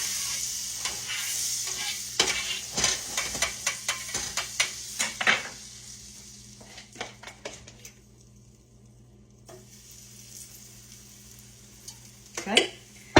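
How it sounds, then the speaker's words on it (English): Banana pancake batter frying in butter and olive oil, a bright close sizzle with a quick run of utensil taps and scrapes early on, easing into a quieter crackle, then a sharper clatter near the end. "So I'm going to put a little butter, a little olive oil, mix them together, and put our batter on there."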